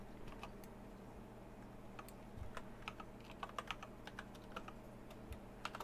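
Typing on a computer keyboard produces quiet, irregular clicks and taps, with a few sharper keystrokes clustered near the end, heard alone over a faint background hum.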